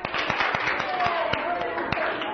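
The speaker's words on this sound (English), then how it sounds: "All right, everyone clap" A classroom of children claps in scattered, uneven hand strikes, several claps close together, with chatter and voices underneath.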